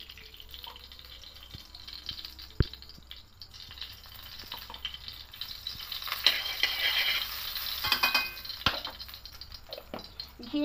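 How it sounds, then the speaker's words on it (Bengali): Ghee heating in a wok crackles quietly, with a few sharp taps scattered throughout, and the sizzling swells louder and busier in the second half. "কড়াই বসিয়েছি, এবার এতে ঘি দিয়ে দেবো।"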